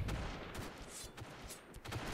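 Gunfire in the video game Point Blank, a quiet run of short cracking shots spread across a couple of seconds with no talking.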